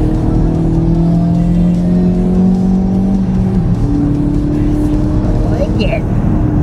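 A car engine drones loudly and steadily while being driven, rising and shifting in pitch as it revs, close and continuous throughout.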